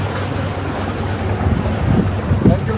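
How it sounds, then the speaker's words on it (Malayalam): Boat out at sea in the Maldives, with a steady low engine rumble and wind buffeting across the microphone, water slapping at the hull, and a few faint voices in the background. "അടുത്ത ബോട്ട് റെഡിയാണല്ലോ, നേരാട് കയറുന്നല്ലേ"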